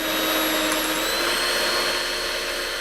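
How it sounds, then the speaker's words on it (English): A steady, loud electric whirring with a high mechanical whine, continuous and unbroken throughout, from an electric whisk running at full speed. "Listen to the sound of the electric whisk."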